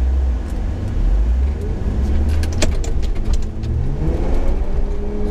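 An underpowered car engine strains as it accelerates up a slope, a steady mid-pitched drone with a low rumble, close and fairly loud, with no talking.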